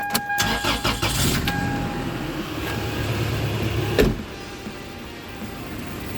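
A small four-cylinder Toyota Tacoma truck engine with an aftermarket header cranks and catches, then settles into a low, quiet idle. Close by, with no voices.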